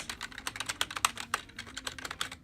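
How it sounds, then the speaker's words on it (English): Rapid keyboard typing, a steady stream of crisp clicks and clacks up close, with a few louder key strikes standing out. "these are the sounds that the keyboard makes"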